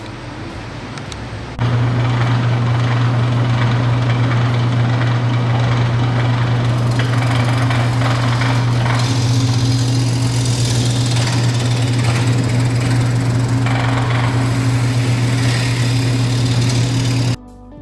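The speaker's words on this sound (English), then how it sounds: "So I'm now turning this top section on the lathe." A large-diameter glued-up wooden top section spins on a lathe with a loud, steady motor hum and a continuous rough whir of cutting. It starts abruptly after a short quieter lead-in and stops near the end.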